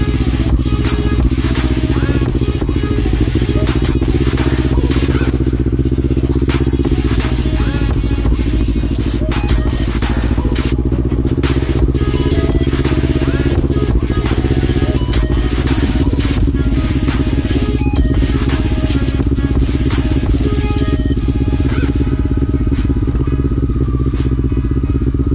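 A quad bike engine runs loudly and continuously, its pitch rising and falling as the throttle is opened and eased.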